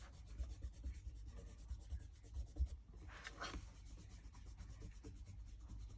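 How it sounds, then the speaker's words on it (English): An eraser rubs out pencil outlines on a paper mandala drawing, giving soft, quiet, repeated scrubbing strokes with a brief brighter swipe midway, close by and alone. "you can just rub out the outlines"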